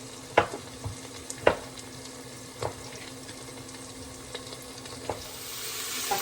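A spoon scrapes and stirs biryani masala with chopped green chillies and tomato in a pressure cooker pot, giving a few sharp clinks over a soft steady sizzle, close and moderately loud, with no talking.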